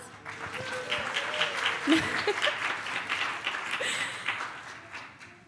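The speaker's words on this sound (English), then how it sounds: "round of applause." Congregation applause during a Sunday morning worship service, moderate and fairly close, with clapping mixed with murmurs, a chuckle and scattered voices.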